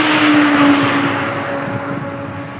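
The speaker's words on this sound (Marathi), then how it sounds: "गाड्या चालू" Road traffic runs steadily outdoors near a plant nursery, with a continuous engine rumble and tyre noise from vehicles passing close by, slowly easing in loudness.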